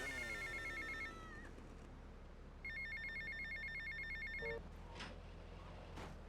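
Phone ringing in GTA Vice City, repeated electronic trilling rings in separate bursts with pauses between them, fairly faint over a low game rumble and a few other game sounds.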